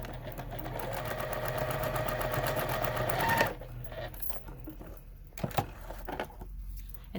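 A sewing machine stitches a quilt block in one steady, fast run of about three seconds. It stops abruptly and is followed by faint handling clicks and taps nearby.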